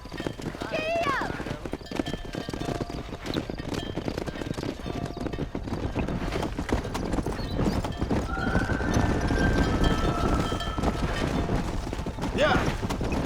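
A horse in the video game Red Dead Redemption gallops with rapid hoof clip-clops, neighing twice, amid gunfire in a busy outdoor scene, with a voice calling out.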